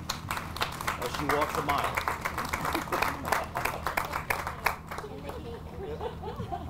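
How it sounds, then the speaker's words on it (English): An outdoor Memorial Day ceremony crowd in the Town of Wappinger claps for a vocalist, a dense burst of applause that fades toward the end, mixed with crowd chatter and a voice speaking. "A round of applause for Jennifer Prophy"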